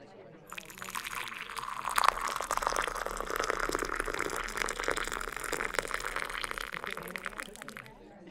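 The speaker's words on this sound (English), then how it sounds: "it has reached boiling point. Oh, wait. That's just the water for my tea." Water heating to a boil in a kettle for lemon tea, a steady hissing, bubbling rush that rises after the first half-second and holds close and fairly loud, with a soft voice speaking over it.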